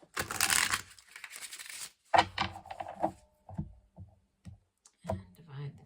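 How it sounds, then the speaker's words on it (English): A deck of tarot cards is shuffled up close: a burst of riffling flutter, then scattered soft clicks and taps as cards are handled and squared, fairly quiet. "Okay, we'll do one more shuffle."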